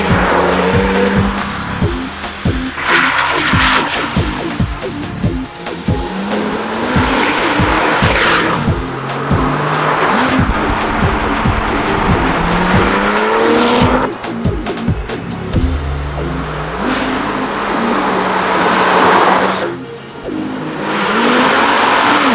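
A new Porsche GT2 sports car sliding on a road in open country, its tyres squealing loudly in long repeated screeches while the engine revs and roars close by, with bursts of acceleration between skids.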